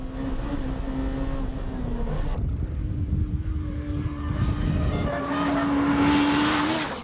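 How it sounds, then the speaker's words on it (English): A Honda Integra Type R driven hard around the winding Takasu test course, its engine droning and rising in pitch, dropping briefly between gears and then climbing again, heard from a moderate distance. "Gan-san testing the Integra R on the winding course at its home ground, the Takasu test course"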